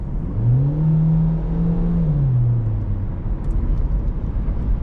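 A 2024 Hyundai Elantra SEL sedan with a four-cylinder engine accelerates hard, its engine note rising steadily over a few seconds and then easing off, heard from inside the cabin with a steady low road rumble underneath.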